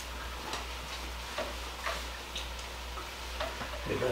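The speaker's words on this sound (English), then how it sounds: "I'll get this sausage brown and then I will drain off the extra grease" Sausage browning in a pan, a quiet, steady sizzle with soft periodic ticks and pops over a low hum, close and fairly faint, without speech.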